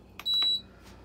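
A compact SPT SD-2225DW countertop dishwasher being switched on gives a short, fairly quiet electronic beep sequence, a couple of quick blips then one steady tone, against a faint room hum.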